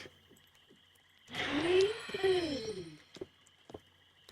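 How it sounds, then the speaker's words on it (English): A giant poisonous frog in the fantasy role-playing game Wizardry 8 gives a single loud, croaking call with a falling, warbling pitch that lasts under two seconds and stands alone against quiet game background. "The giant poisonous frog"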